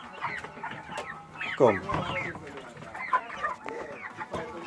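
Small chickens cluck close by in short, scattered calls, with a person talking briefly among them.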